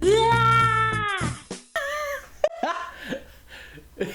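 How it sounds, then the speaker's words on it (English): A long, drawn-out video game cat meow with a rising, wailing pitch, followed by shorter, choppier meows and yowls close up. "Could they have not gotten more of a blood-curdling meow that they use for the cat?"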